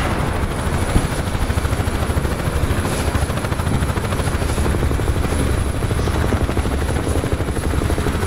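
A UH-1H Huey helicopter in the DCS World flight simulator comes in to land, its rotor and turbine making a loud, constant, close thrum throughout with no speech.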